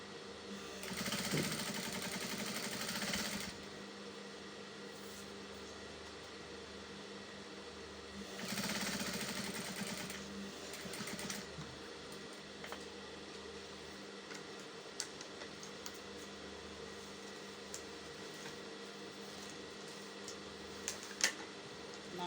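A sewing machine stitches a seam near a trouser fly zipper in two brief bursts of fast whirring, separated by quiet handling sounds.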